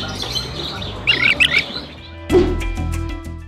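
Bee-eaters in an aviary give a few short, bright chirps and squawks in two quick bursts over a steady low mechanical hum.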